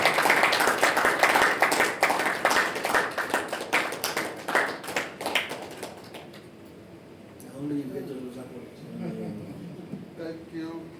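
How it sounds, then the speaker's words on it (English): Audience applause and clapping for a guest speaker at a career development talk in Kigali, dense and loud for about six seconds before fading, followed by the speaker's voice. "let us all give a round of applause for Mr."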